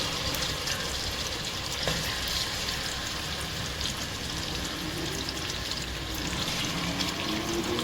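Mutton fries in a pan for smoky yogurt mutton, making a soft, continuous sizzle with watery hiss and faint stirring. No one speaks.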